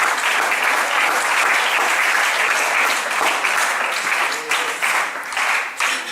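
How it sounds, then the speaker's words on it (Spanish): Sustained applause from a church congregation, dense and steady clapping filling the room for about six seconds before thinning slightly toward the end. "un aplauso a usted por eso"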